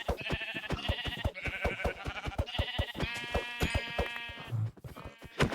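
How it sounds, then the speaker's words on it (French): Sheep in the Minecraft video game bleat repeatedly in rapid, loud, close succession, a run of wavering cries filling the whole stretch with no talk. "Attends, je vais pull up des moutons."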